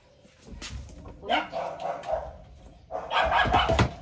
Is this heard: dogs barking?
yes